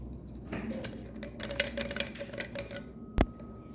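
Hard plastic Magic Bullet blender cups clatter and tap as they are handled, with several light clicks and knocks and one sharp clunk near the end, close and fairly quiet.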